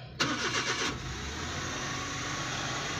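A Suzuki DA64W engine cranks with a brief rapid starter whir, catches, and settles into a steady, close idle hum with no talk over it.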